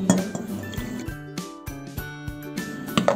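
Ice pieces and sugar clink against a glass while cantaloupe faloodeh is assembled, a rapid series of bright, close glassy taps and rattles with short ringing tones between them.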